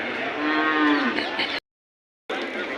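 A buffalo at a livestock market in Rampura Phul gives a loud, close, drawn-out moo that rises and bends, followed by a short gap and a murmur of the market.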